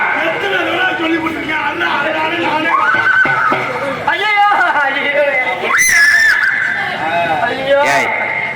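A horse neighs and whinnies in repeated shrill, wavering calls amid loud voices and commotion in a Tamil comedy scene.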